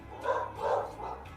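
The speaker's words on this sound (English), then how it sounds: "Sorry, my dogs are barking" Dogs bark nearby in a few quick muffled woofs spread across a short stretch, moderately loud, with no voices.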